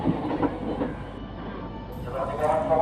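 Steady rumble and clatter of a moving Indonesian KRL electric commuter train heard from inside, with a brief squeal of wheels and muffled voices underneath.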